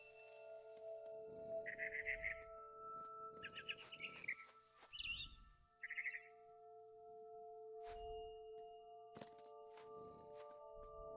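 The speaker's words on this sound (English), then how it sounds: "It was a barn swallow going back to her nest." Chirps and calls from a barn swallow in the video game What Remains of Edith Finch come in short bursts over a constant ambient hum, with soft rustling and clucking-like sounds between.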